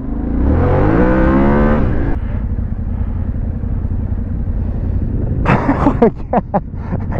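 A motorcycle ridden off-road revs loudly up close, drops to a steady idle-like drone, then gives a burst of rough throttle blips and splashy bursts as it crosses a puddle.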